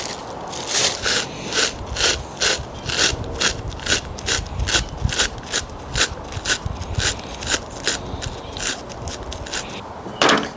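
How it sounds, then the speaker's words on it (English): A hand-cranked Valley Sportsman sausage stuffer being run all the way out while processing deer meat, giving a steady string of sharp ratcheting clicks, close and fairly loud, with no talk. "I've ran this all the way out to the end of this sausage stuffer, and then I'm going to feed it through this casing."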